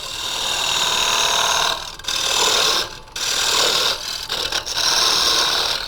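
A carbide lathe tool turns away wood on a spinning wooden bangle, giving a dense, scraping hiss with brief drops and gaps as the cut is lifted and reapplied, heard close without speech.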